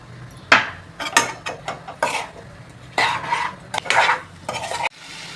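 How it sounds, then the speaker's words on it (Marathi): A spoon scrapes and stirs amla pickle with jaggery in a pan, making close, irregular scraping strokes and light metallic clatter in uneven bursts, with no talk. "आता परतवायचं सगळं मिळून परतून घ्या"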